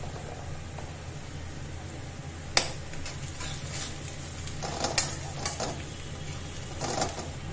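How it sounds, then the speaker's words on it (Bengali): Onions sizzle steadily in a pan with salt and turmeric, a soft continuous frying hiss broken by a few scrapes and clinks of a spoon stirring, close by with no talk. "পেঁয়াজগুলো একটু ভাজা হয়ে নিই, আমার ভাজাটা প্রায় অর্ধেক, আমি এক্ষেত্রে নুন আর হলুদ দিয়ে দিচ্ছি"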